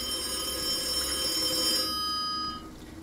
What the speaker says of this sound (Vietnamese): cái tiếng chuông điện thoại nghe sợ quá